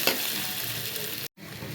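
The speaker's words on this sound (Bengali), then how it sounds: "এটাকে ভালো করে একটু লাল লাল করে ভেজে নেব" Ginger fries in hot oil for a fish-head mung and arhar dal, sizzling steadily up close. The sound cuts out briefly near the end, then resumes, with no talking.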